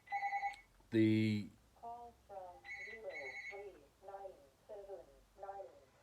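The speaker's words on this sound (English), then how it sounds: "So the phone's ringing at the office." An office telephone rings with a tonal electronic trill in short repeated bursts, a burst early on and more through the middle, under and between a person talking close by.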